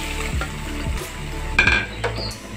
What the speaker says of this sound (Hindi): तेल गर्म हो गया, 1 कप तेल था वो हमने इसमें डाला है और उसमें हम प्याज डालते हैं।